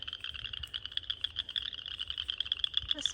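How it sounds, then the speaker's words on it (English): Frogs croaking in a rapid, pulsing chorus outdoors along a hiking trail, loud and continuous for the whole stretch with nothing else over it. "Must be frogs."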